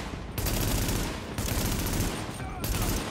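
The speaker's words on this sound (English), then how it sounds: "This gun does a lot more damage, but just shoots all over the place" Bursts of erratic, high-damage gunfire from a weapon in The Division beta on Xbox One, loud and dense across the clip, broken by a couple of brief pauses with no talk.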